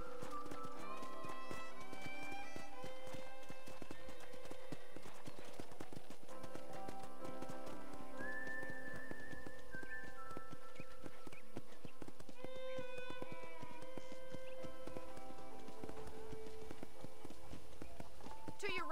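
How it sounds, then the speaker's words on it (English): Horse hooves clip-clop in the Red Dead Redemption video game, a steady rhythmic trot running under continuous game music, with speech present throughout. "I picked out a fine horse for you."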